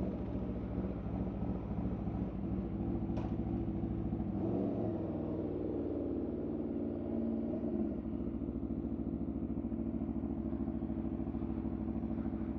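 A naked sport bike capable of 200 mph idles and rolls along a sidewalk, its steady engine rumble close and continuous with wind buffeting the microphone, no talking.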